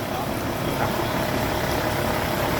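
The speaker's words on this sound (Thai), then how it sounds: "ด้านหลังก็เป็นเครื่องยนต์นะครับ ก็จะ จะไปวิ่งน้ำออกนะครับ" An engine drives a farm water pump that pushes water out through a pipe, a loud, steady mechanical drone running unbroken at close range.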